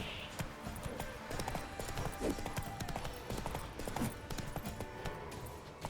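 Hooves of Roach, a horse in The Witcher 3 video game, clip-clopping in a steady trotting rhythm, close and fairly quiet, over faint game ambience.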